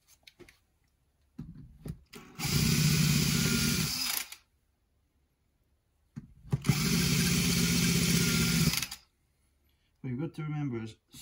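A power drill bores out an aluminium hydraulic brake cylinder in two loud, gritty bursts of a couple of seconds each, separated by quiet pauses, with a short third burst starting at the end.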